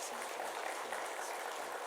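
Church congregation applauding to welcome a newcomer during a Sunday service, a steady wash of moderate clapping with a murmur of voices under it.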